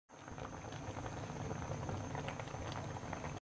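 Mutton Peshawari karahi with tomatoes simmering under a closed lid in its own juices, giving a dense, steady bubbling and sizzling that runs evenly for several seconds at low level.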